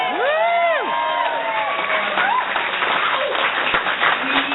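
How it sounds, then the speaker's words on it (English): A crowd applauds and cheers, with whoops and shouts rising over steady clapping that fills the room. "Round of applause."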